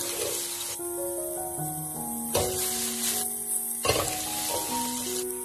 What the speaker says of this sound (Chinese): 再把青椒倒下来，快速的翻炒均匀，将辣椒也炒出香味